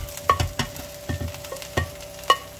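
Mushrooms go into a frying pan, sizzling while a utensil clatters and stirs in quick irregular knocks, close by, with no talking.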